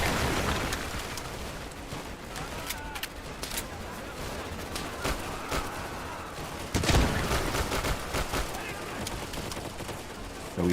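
Dense video game battle with rapid overlapping gunshots and bursts of fire crackling throughout, a heavier blast about two-thirds through, a loud continuous barrage under occasional talk.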